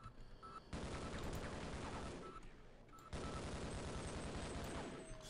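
Rapid bursts of gunfire from shooting enemies in the Half-Life video game come in two sustained volleys, dense and loud, separated by a short lull, with no speech over them.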